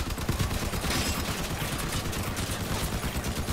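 Dense, rapid gunfire from the vehicle combat video game Crossout: continuous overlapping shots and bursts at steady loudness, with no talking.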